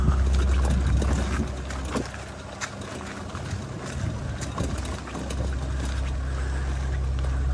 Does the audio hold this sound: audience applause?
no